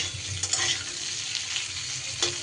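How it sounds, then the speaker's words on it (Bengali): Potatoes get stirred in hot oil in a pan, a constant dense sizzle up close with occasional spatula scrapes and soft clatters across the pass. "কিছু সময় ধরে আমি এবার এটা তেলের মধ্যে নাড়াচাড়া করে নেব"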